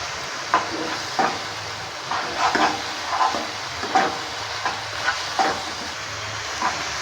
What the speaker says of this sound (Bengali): কিছুক্ষণ সময় নিয়ে আমি ভালো করে মশলাটাকে কষিয়ে নিচ্ছি